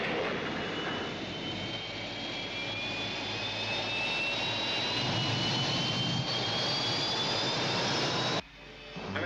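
Engine of a rescue spaceship moving, a steady, loud jet-like roar with rising whine tones that holds for about eight seconds before cutting off abruptly.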